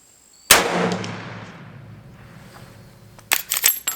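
A Marlin 336 Classic lever-action rifle in 30-30 fires at targets 100 yards out: one sharp, loud report with a long decaying tail, followed by a burst of clattering mechanical clicks near the end.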